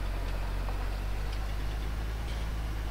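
Tractor engine in a farming video game, a wider machine than a Massey, droning steadily at a low idle-like rumble, constant and moderately loud with no talk over it.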